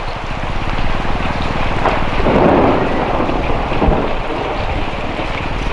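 Heavy rain pours steadily on a street where grilled chicken is being sold, a dense unbroken hiss with a low thunder rumble swelling midway and fading again, no voices.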